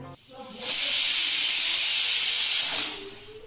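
A pressure cooker boiling potatoes lets out one loud, sustained hiss of escaping steam for about two seconds, rising sharply, holding steady and then fading away.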